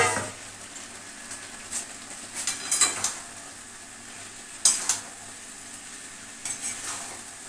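Cauliflower pieces going into hot spiced oil in a pan, a faint steady sizzle with intermittent stirring scrapes and clinks of a utensil against the pan, no voices.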